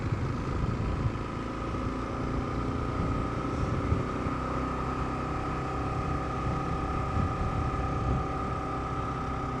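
A Kawasaki KLR650 climbs a hill over the Remutaka range, its single-cylinder engine droning steadily under load alongside rushing wind noise, continuous and close, with no speech.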